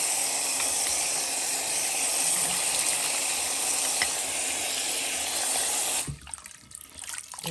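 Tap water runs steadily from a faucet while a beauty blender makeup sponge is squeezed and washed under it, a close, continuous hiss and splash that cuts off abruptly near the end, leaving faint handling sounds.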